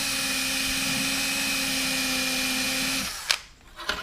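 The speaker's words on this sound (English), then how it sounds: "Don't want to drill to the table." A power drill bores holes through a cutting board, its steady whine running for about three seconds before stopping, followed by a few brief clicks and handling noises close by.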